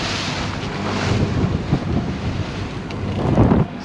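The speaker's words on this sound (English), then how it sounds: "So I began to feel the waves now." Wind and waves rush around a sailboat on open water, a steady broadband roar with gusty buffeting against the microphone and a louder surge near the end.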